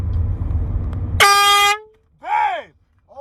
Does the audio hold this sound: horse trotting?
no